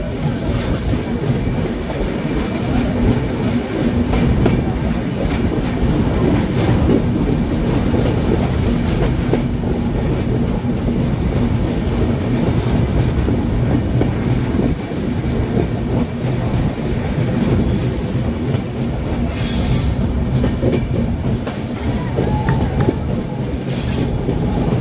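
Madhumati Express running from Dhaka to Rajshahi, a loud, steady rumble of rail cars with continuous wheel clatter close by and brief high wheel squeals toward the end, with no talking.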